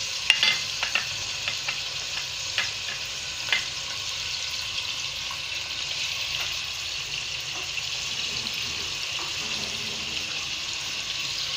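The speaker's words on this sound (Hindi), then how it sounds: "असां हिनखे 2-3 मिंट भुञंदासीं जेसिताईं जो कलर चेंज थिए" Chicken cooking in a pan with ginger-garlic paste for a Sindhi tomato chicken sizzles steadily on high heat, a continuous close hiss broken by occasional scrapes and clinks of stirring, with no talking.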